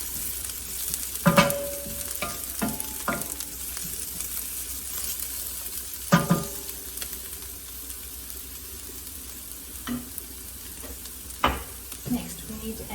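Sliced garlic fries in a pan on the stove, a steady close sizzle with occasional louder stirring scrapes and clinks, no talk over it.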